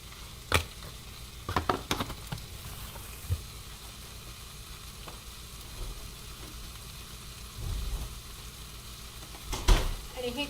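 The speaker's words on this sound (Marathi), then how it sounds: "हे चण्याचं पीठ मात्र भाजायला तुम्हाला तेलाची गरज लागेल" Gram flour roasting in oil in a pan, a low steady sizzle close by, broken by occasional knocks and scrapes of a spoon against the vessel.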